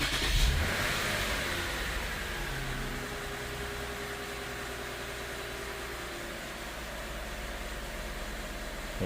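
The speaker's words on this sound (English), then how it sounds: "We'll turn the car on and see what happens." A car with a CrownFocus integration kit is switched on and its engine starts with a brief louder burst, then settles into a low, steady idle that continues quietly to the end.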